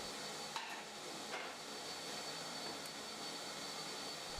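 A table saw making a shallow cut in wood for coat hooks, a steady loud whirring hiss throughout with faint clicks, no talking.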